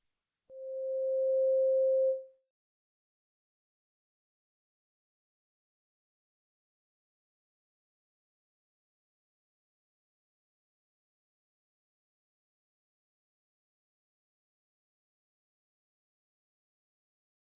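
A steady pure 528 Hz tone sounds alone for about two seconds, smooth and moderately loud, then stops and leaves long silence.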